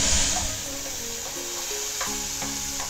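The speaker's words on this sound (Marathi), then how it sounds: "लसणाच्या 4 पाकळ्या आहेत, त्या फोडणीला घातल्या." Continuous close sizzling of garlic cloves frying in hot oil, a bright steady hiss with small pops and crackles throughout.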